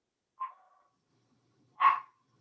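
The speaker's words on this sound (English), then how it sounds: "Is that your dogs, Dr. Bernstein?" A dog heard in the background of a remote online hearing gives two short, distant barks about a second and a half apart, the second louder, with silence around them and no talking.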